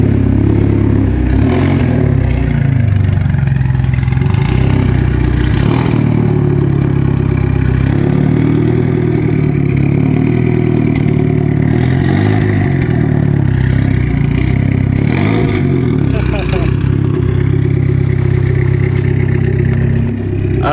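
A car engine idles close by with its exhaust running, a loud, continuous low rumble with slight rhythmic pulsing and occasional mechanical clatter throughout.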